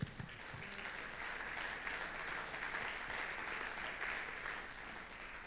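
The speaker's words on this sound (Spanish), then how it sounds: "¿Cuántos le dan un aplauso al Señor?" A church congregation at a Sunday service claps for the Lord, a steady, fairly soft wash of many hands sustained evenly throughout.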